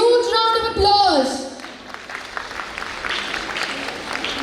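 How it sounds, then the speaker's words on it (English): Applause from the crowd at a college farewell event rises after a voice speaks over amplified sound, continuing as a steady, moderately loud clatter of many hands for the remaining seconds. "So please again give them a huge round of applause."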